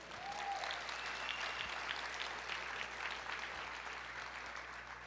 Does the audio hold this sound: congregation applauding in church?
yes